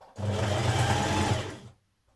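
A sewing machine runs a shallow zigzag stitch along a 1.5 cm seam joining a sweatshirt body to its band, a steady close motor whir for about a second and a half before stopping.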